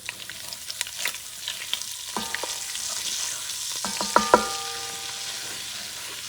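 Flour cooking slowly in hot grease for a Louisiana-style gumbo roux, a soft steady sizzle with a few sharper scraping clinks from stirring partway through, no talking.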